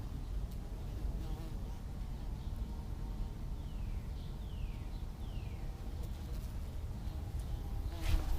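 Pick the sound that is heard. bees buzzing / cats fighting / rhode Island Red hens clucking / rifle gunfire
bees buzzing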